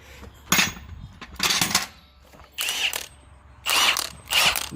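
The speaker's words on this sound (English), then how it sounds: "Drill working, or impact working." Five short bursts of a rattling, ratcheting battery impact wrench, each about half a second long, separated by brief pauses, close and moderately loud, during tire work on a Kenworth W900 truck.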